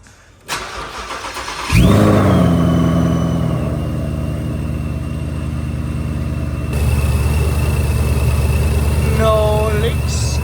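A 1000 hp Ford Mustang engine cranks briefly, fires up with a loud burst and settles into a rough, loud idle, then climbs to a heavier rumble, with a high whine running alongside.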